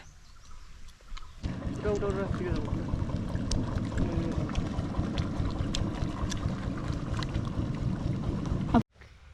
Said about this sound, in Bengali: নৌকা চলে আসলো